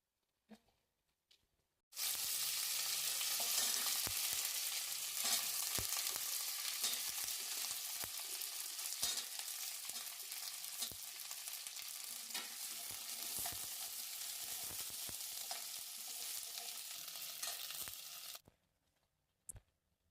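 Onions, curry leaves and drumstick pieces drop into hot oil in a pan and fry with a loud, sudden, continuous crackling sizzle, up close, with spoon stirring scrapes throughout before it cuts off near the end.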